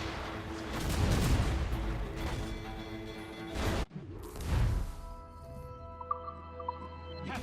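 Heavy booms from ship cannons firing at sea in Assassin's Creed Rogue, a loud rumbling barrage followed by a brief pause and another blast, with a fading low roar afterward.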